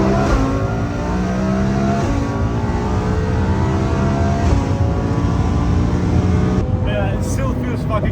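A 1600 horsepower twin turbo Lamborghini accelerates hard on the German Autobahn with a loud, continuous roaring engine climbing through gears with brief shift dips, heard from inside the car.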